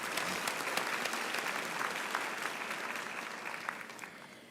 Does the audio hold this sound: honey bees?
no